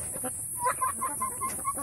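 Chickens, some of them sick, cluck softly in a run of short, close calls over a quiet indoor hum.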